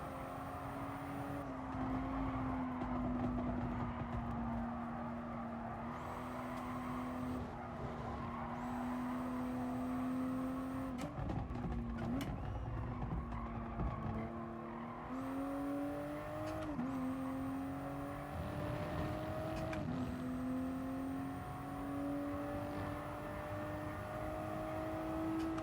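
A race car engine revving hard in Gran Turismo Sport, a loud continuous whine rising and falling through repeated gear changes over nearly half a minute.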